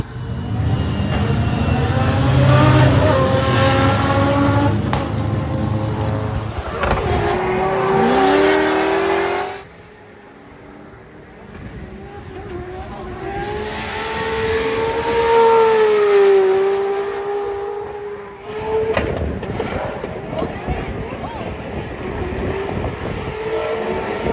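Drift car sliding through the Corkscrew at Laguna Seca race track, engine roaring loud and continuous with rising and falling revs, a brief quieter lull midway before the engine surges again.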